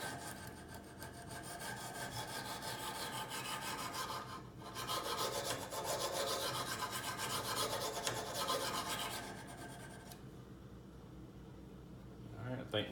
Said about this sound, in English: If you don't do the first stone right, there's no point in even sharpening.